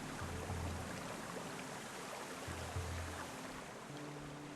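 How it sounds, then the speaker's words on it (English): Running water flows at a hot spring resort in a video game, a steady, even rush with no voices. "I love the sounds of the running water"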